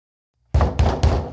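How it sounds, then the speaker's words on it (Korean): Knocking on a front gate, three heavy, evenly spaced thuds after a short silence, close and resonant with a deep boom. "그때 대문을 두드리는 소리가 들렸습니다"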